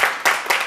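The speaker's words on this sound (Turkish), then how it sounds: "Bir kuvvetli alkışlar mıyız Limoncu abiye?" Studio audience on a Turkish TV game show breaks into a short, lively burst of clapping, with two or three swelling pulses of applause.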